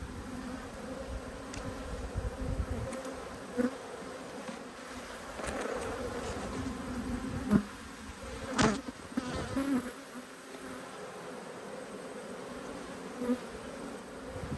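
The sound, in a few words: honey bees buzzing at an opened hive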